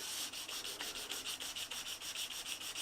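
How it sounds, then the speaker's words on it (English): A Scandi grind knife is hand sharpened with steady, rhythmic scraping strokes against an abrasive, about five strokes per second, close and continuous. "when you sharpen in this direction, you're going to end up more of a linear edge."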